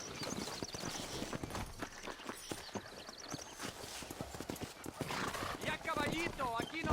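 Horse hooves clip-clop at a galloping pace in the Red Dead Redemption video game, with a horse neighing near the end, all under ongoing talk and background music.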